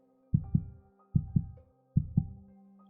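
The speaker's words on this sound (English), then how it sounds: "We can hear our bassy heartbeats going." Three pairs of deep, bassy heartbeat thumps, each double beat followed by a pause, play steadily and up close over a low hum.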